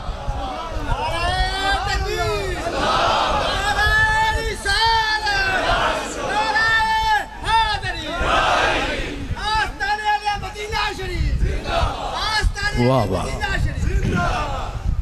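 Large crowd at a religious gathering with a Qadri cleric, loud voices repeatedly shouting a slogan in rising, wavering unison, with short pauses between calls and a busy murmur underneath.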